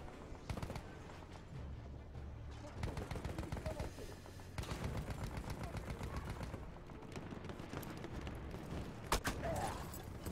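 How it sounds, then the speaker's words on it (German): Rapid bursts of Battlefield 1 gunfire in a desert map, automatic weapons rattling almost continuously with a few sharper single shots. "Oh, aber wir werden von irgendwo geschossen haben."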